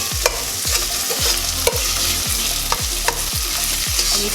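Seasoned spice blends and ginger sautéing in a pan with steady frying sizzle, punctuated by a regular rhythm of loud stirring scrapes roughly every half second, close and with no talking.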